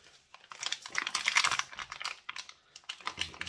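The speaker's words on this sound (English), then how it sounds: "Going to cut open the pack, which has been frozen for at least 24 hours." A frozen plastic pack from a sloe gin kit is cut open up close, giving crinkling, snipping and rustling plastic in uneven bursts, with no talking.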